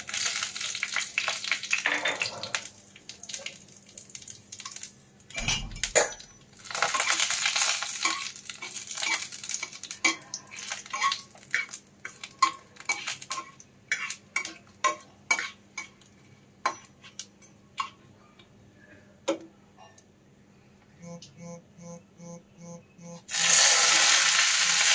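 Dried red chilies, panch phoron and bay leaf temper in a little mustard oil for a cucumber shukto, with soft sizzling bursts, repeated sharp scrapes and clinks of a spatula on the pan, and a louder sizzle rising at the end.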